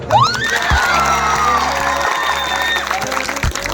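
A large seated audience at a celebration event claps and cheers, a dense sustained wash of applause with whoops and shouts, loud and continuous throughout.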